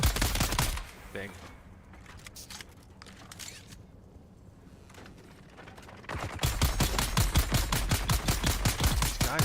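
Rapid automatic gunfire in Dune: Awakening, loud bursts of closely spaced shots at the start and a sustained volley near the end, separated by a quieter lull with voices in the background.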